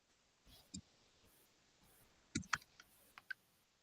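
Scattered keyboard key clicks, a few isolated taps then a short burst of quicker presses, faint and fairly close in a quiet room during an online class session.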